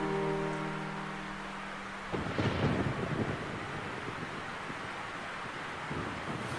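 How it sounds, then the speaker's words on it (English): A fierce storm roars with heavy wind and rain noise, and a deep rumble of thunder swells midway before the steady gusting carries on; no voices. "we are awakened by a fierce storm that assaulted the land"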